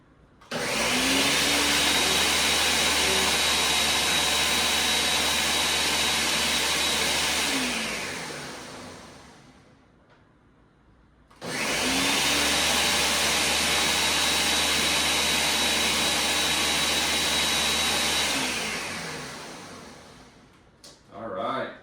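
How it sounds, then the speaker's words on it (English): Blender whirring through homemade infant formula runs in two loud bursts of about seven seconds each, with a short pause between them, each winding down as the motor stops. "it's very important to not over blend this. So for this blender, I do 7 seconds twice"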